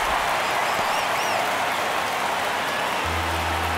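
Game stadium crowd from MLB The Show 23 during a tense ninth-inning Cubs vs White Sox at-bat, a steady broad roar of fans holding throughout, with a low hum entering near the end.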